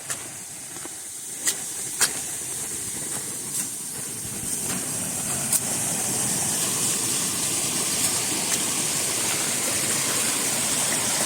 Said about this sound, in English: just a little tiny creek, but you could see the force that it's running even though it's tiny.